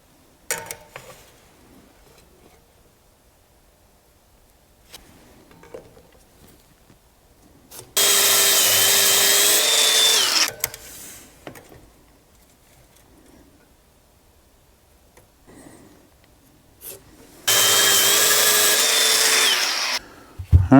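A power tool cuts a seat rail extension piece into two lengths in two loud, steady bursts of a few seconds each, separated by quiet handling noises, close by.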